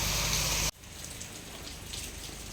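Loud, dense rain roar in Udupi cuts off abruptly, then continues as a softer steady patter of rainfall with scattered drops.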